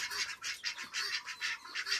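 Repeated nasal honking calls from waterfowl, roughly six bursts in quick rhythm, fairly close and clear with no talking.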